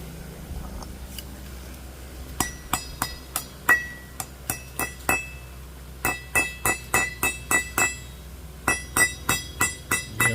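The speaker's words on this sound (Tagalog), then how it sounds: "Kailangan natin pukpukin ng martilyo." A hammer taps a hub centric ring onto a car wheel hub with sharp metallic clinks. The light blows come in quick runs of several strikes, close up and separated by brief pauses.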